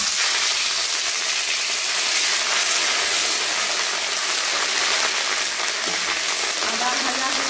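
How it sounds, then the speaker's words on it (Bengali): Ginger paste frying in hot oil in a pan, a steady dense sizzle and crackle filling the whole stretch at close range, with no voice over it. "গরম তেলে বেটে রাখা আদা দিয়ে দিচ্ছি।"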